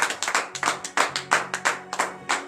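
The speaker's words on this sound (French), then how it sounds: "Donnez de vives acclamations à l'Éternel." Steady, rhythmic handclaps ring out at a Christian morning prayer service in Comè, Benin, about ten sharp claps in quick succession, close and fairly loud over a low sustained hum.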